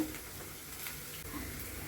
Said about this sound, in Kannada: ಇವಾಗ ಇದು ಚೆನ್ನಾಗಿ ಫ್ರೈ ಆಗ್ತಾ ಇದೆ